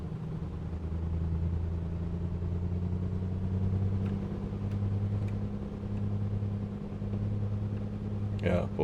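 The piston engine of an A2A Comanche in a flight simulator holds a steady, droning low hum at a constant pitch, close and continuous. Near the end a brief sharper sound cuts in.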